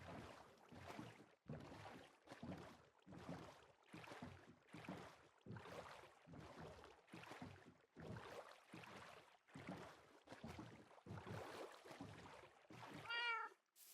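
A Minecraft cat gives a short meow near the end, following a long run of rhythmic swishing strokes like oars pulling through water.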